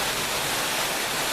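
Waterfall roar, a steady dense broadband rush of falling water that stays constant and loud throughout with no breaks or voices.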